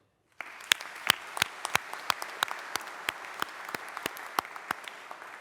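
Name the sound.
audience cheering for graduates' supporters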